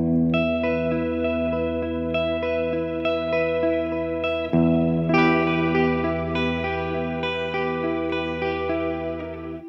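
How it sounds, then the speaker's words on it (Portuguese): Electric guitar chords played through an Ampero 2 Stomp multi-effects pedal with a reverb setting for ambience, sustained and ringing continuously with a new strum partway through, loud and alone. "Mas que a ideia desse reverb é utilizar mais pra acordes e ambiências."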